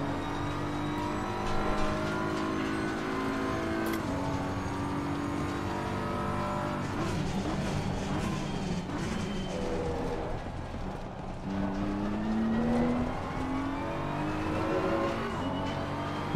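A race car in Assetto Corsa Competizione roars steadily at high revs, with rising and falling engine tones through gear changes and the occasional tire squeal, loud and continuous.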